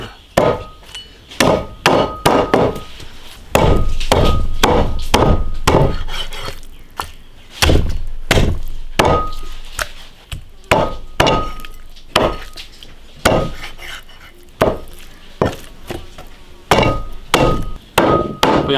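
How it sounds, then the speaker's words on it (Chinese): A cleaver chops a freshly killed duck into large pieces for a rustic iron-wok 'bandit duck' dish, giving a steady run of loud, sharp thwacks on the board with brief pauses between bursts. "把鸭子剁大一点"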